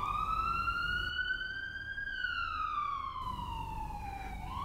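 An ambulance siren wails loud and close, a single long tone sweeping up and then sliding back down over steady background rumble.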